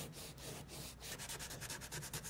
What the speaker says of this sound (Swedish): Så jag slipar bort det här överflödiga som är utanför själva skadan.